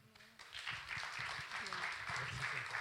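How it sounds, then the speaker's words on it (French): Church congregation applauding together during a service, a steady broad wash of clapping that swells after a quieter opening and holds at even strength to the end. "On peut encore l'applaudir."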